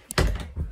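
A door being shut indoors, one close, dull thunk followed by a softer knock as it settles.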